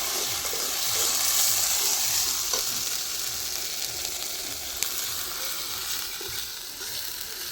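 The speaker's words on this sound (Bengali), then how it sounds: "এবার আদা বাটাটা দিয়ে দিচ্ছি" Ginger paste in a pan of frying chicken sets off a steady, close sizzle and hiss that lasts throughout, with faint scraping from stirring.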